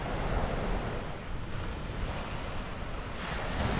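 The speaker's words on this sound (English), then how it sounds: "High tide at Victor Harbour." Ocean waves at high tide at Victor Harbor beside the Granite Island causeway, a steady loud wash of surf with wind noise and no speech.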